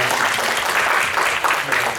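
Church congregation applauding to welcome visiting guests, a pastor and his family, a steady broadband clapping that fills the whole stretch with faint voices mixed in.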